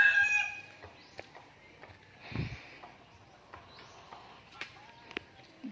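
Chickens cluck and a rooster gives a brief crow, with scattered short calls spaced out over a quiet farmyard background where pigs are also kept.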